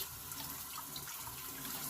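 A badger synthetic hybrid shaving brush, the F1 Innovator, rinsed under a running tap, giving a steady close splashing flow of water with no talk.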